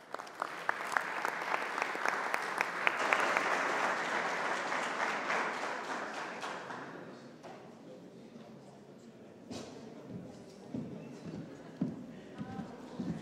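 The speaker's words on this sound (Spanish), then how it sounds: "Un aplauso, por favor." A seated audience at a dengue forum claps after a panel session, loud dense applause for about six seconds that thins into scattered, fading claps, with a few voices murmuring near the end.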